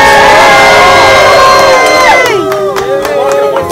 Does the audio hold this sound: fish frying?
no